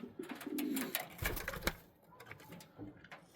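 Pigeons in a loft on a frosty day coo softly with low throaty murmurs, mixed with scratchy shuffling and tapping clicks nearby, faint and uneven.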